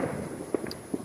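Private fireworks go off in a park on the Fourth of July, with a few faint, scattered pops and crackles spread across a second of distant ambience.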